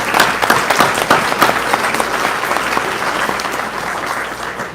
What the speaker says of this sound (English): how about a big round of applause to everyone for making it here today